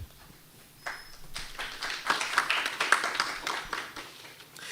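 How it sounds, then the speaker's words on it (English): A lecture-hall audience at an evening medical program breaks into applause, starting faint and building into steady, moderately distant clapping that carries on to the end. "the audience in person and online are free to applaud as well"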